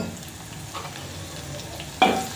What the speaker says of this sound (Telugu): దాన్ని మొత్తం ఇట్లా నూనెలో వేసి ఇట్లా కొంచెంసేపు